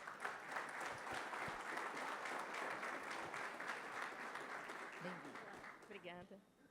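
An audience at a conference applauds to welcome a speaker, a dense sustained clapping that continues for several seconds before fading as a voice begins speaking near the end.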